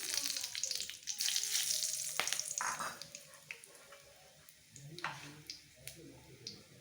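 Chillies, bay leaves and whole garam masala spices dropped into hot oil, bursting into a loud crackling sizzle that gradually settles into lighter popping and spitting, close by with no voices.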